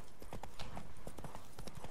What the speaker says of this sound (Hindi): मेरा घोड़ा भागता है गधे की तरह, रहा तेज भाग।